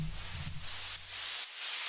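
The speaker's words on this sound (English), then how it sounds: "And that means white noise." Hissing white noise rises and falls in pulsing sweeps, brightening and dimming in a few quick waves over a fading low tone.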